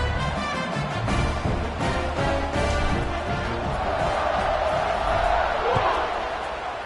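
Loud, sustained roar of a college football stadium crowd, a dense wall of cheering and yelling that swells slightly toward the end, with scattered thumps and shouts in the mix.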